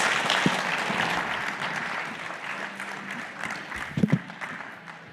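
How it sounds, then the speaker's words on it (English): A conference audience applauds panelists with steady, moderately loud clapping that thins toward the end, a few sharper claps standing out near the close. "everyone give these panelists a round of applause"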